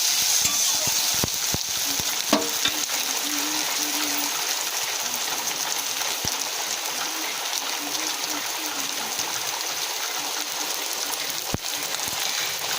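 Chicken pieces dusted with turmeric powder stir-fry in a hot pan, giving a steady close sizzle with occasional scraping stir strokes throughout, no voices over it.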